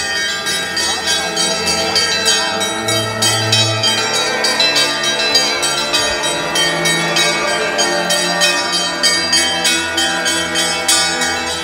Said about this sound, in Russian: Колокольный звон раздается на всю округу.